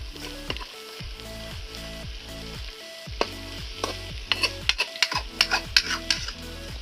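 Potatoes stirred into frying chicken curry in a pan, a steady sizzle under rhythmic spoon scrapes and clinks that grow sharper toward the end.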